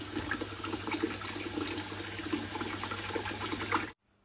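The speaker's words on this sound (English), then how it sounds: "you want to do a water change and make sure the water's going in" Fresh water pouring steadily into a curved aquarium during a water change, a continuous splashing gush that runs for about four seconds and then stops abruptly into quiet.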